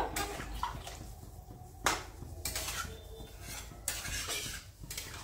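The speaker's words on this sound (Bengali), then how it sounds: "বাটিতে জল নিয়ে নিয়েছি, পরিমাণ মতন দিয়ে দেবো। দিয়ে ভালো করে একটু নাড়াচাড়া দিয়ে নেব।" Water poured into a pan of rohu fish curry with bitter gourd, then stirred, giving soft splashing and scraping clinks of a spoon against the pot, fairly quiet and without speech.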